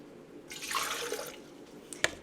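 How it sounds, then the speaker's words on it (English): A cup of water poured for a vanilla cauliflower shake, a short splashing pour of about a second followed by a faint drip, quiet and close. "I'm going to start with 1 cup of water."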